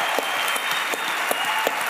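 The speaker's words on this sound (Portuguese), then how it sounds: "Uma salva de palmas pro Brunet" A podcast audience applauds Tiago Brunet with dense, steady clapping that fills the short moment at moderate volume and shows no break.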